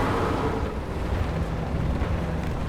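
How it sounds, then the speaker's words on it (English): Chi-Ha tank engine in the video game War Thunder: a strained, rough low roar that holds steady and loud for the whole stretch, with no talk over it. "This engine sounds like it's in physical pain."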